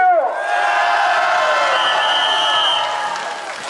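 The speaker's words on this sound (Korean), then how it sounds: "여러분, 우리 조진위원을 위해서 큰 박수 보내주세요" A crowd at a political rally in Jinju cheers and whoops, with tonal horn-like notes rising over a dense, sustained roar of voices that stays loud for several seconds before easing slightly.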